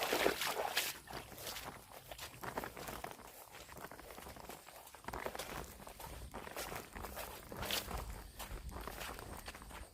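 Footsteps of someone walking across ground in a forest area near Ubon, a steady series of crunching, rustling steps close by, with a few louder scuffs over about ten seconds.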